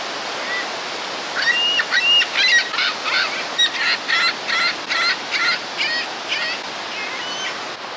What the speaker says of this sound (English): This waterfall, however, may be a little more familiar to you all, seen in the pictures and images and paintings throughout time.